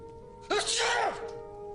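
A single loud, sharp sneeze bursts out at close range over a quiet background hum, lasting about half a second.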